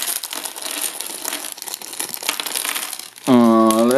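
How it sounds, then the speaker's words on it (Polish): Tough plastic foil packaging from a LELE building-block set being torn and crumpled open by hand, a close, loud stretch of crinkling and crackling, followed by a sudden bright ringing tone at the end. "twarda ta folia, ciężko ją rozerwać"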